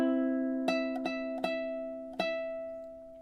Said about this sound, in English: you see I just play the open C and open E, then I play the 7 on the A 4 times.